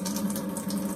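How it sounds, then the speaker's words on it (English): Steady stream of tap water from a Brita Basic faucet filter in unfiltered mode, flowing continuously at close range with a broad, even hiss and no pauses. "when it's on water, the water stream comes out"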